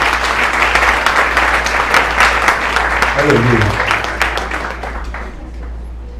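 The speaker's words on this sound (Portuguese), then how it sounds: "Vamos aplaudir a presença de Deus." A church congregation breaks into sustained applause during a worship service, dense clapping filling the room, with a voice calling out over it and raised crowd voices as it tapers off.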